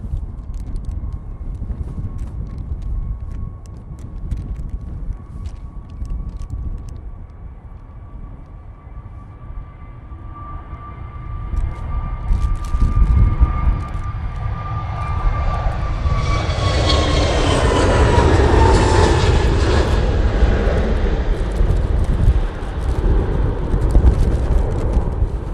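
A passenger airliner takes off at Manchester Airport, its engine roar building from a distant whine into a loud, broad rumble that swells and holds near the end.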